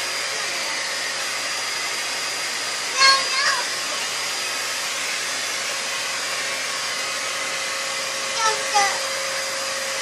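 A vacuum cleaner runs in a home with a constant close whining hum, with a few brief shifts in pitch as the nozzle moves about; a voice is faintly heard under the motor.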